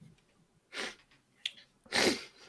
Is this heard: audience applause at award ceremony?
no